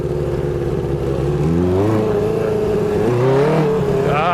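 A rebuilt 1980 Honda CB900C motorcycle engine revs hard and close, pitch climbing in a couple of surges during a wheelie attempt, loud and continuous with no talk.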